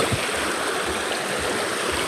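River water flows nearby in Rizal, a steady, dense rushing and babbling that holds even and full throughout with no voices.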